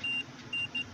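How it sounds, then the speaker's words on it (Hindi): A multimeter's continuity buzzer beeps during a diode check, three short steady tones over a low hum, fairly faint and with no talking. "तो आप बजर की आवाज़ सुन सकते हैं, ये बजर की आवाज़ आ रही है,"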